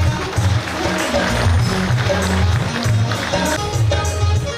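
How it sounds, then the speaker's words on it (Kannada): Loud, sustained applause from a crowd at an award ceremony for a forest-department tree-planting program, with a low droning tone running beneath the dense clapping throughout. "ಜೋರಾದ ಚಪ್ಪಾಳೆ"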